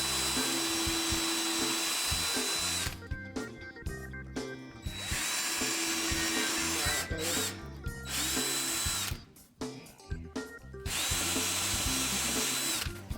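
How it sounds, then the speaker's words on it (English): A power drill bores sideways through a clamped wooden heart, its loud steady whine running close and uninterrupted for several seconds, then dropping off and restarting in shorter bursts, with no talking. "Then used my clamp again and drilled from the side of the heart through to the back."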